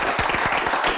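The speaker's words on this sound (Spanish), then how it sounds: "Aplausos" A brief, dense burst of audience applause on a late-night comedy program, close and loud for about a second.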